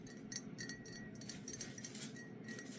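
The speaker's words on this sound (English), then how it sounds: "Kind of sounds like glass, doesn't it?" Glass body spray bottles clink and tap against each other, faint and close, in a few light scattered knocks with no talking.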